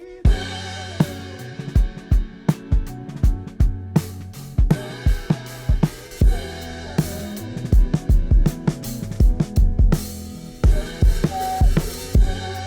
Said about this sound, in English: Now here is the sound of the drums mixed and unmixed.